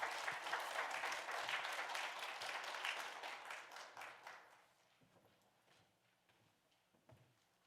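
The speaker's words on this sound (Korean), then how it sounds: "다 같이 저희 박수로 격려해 주시면서 환영해 주시면 감사드리겠습니다" Church congregation applauding to welcome a guest speaker at an anniversary service, a full burst of many hands clapping that fades out over a few seconds into quiet room noise with faint stray sounds.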